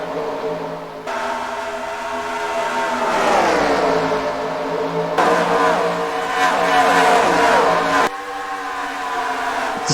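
Several Lamborghini race cars rev and accelerate in a NASCAR-style racing game, engines loud and close, pitch sweeping upward through gear changes with abrupt cuts between passes.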